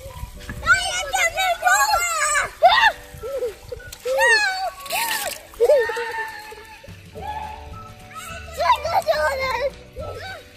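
Children shout and squeal at a swimming pool during a water gun fight, with bursts of splashing water mixed into near, continuous excited voices.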